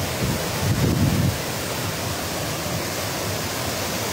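Cascade des Combes waterfall at Saint-Claude in the Jura, a steady broadband rush of falling water, loud and continuous throughout, with a brief low rumble near the start and no voices.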